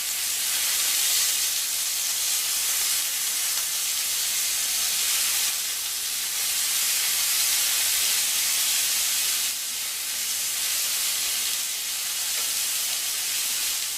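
Kangaroo fillet searing in a hot pan, turned onto its sides, making a continuous loud hiss and sizzle that swells slightly in a few spots and runs the whole time without any talking.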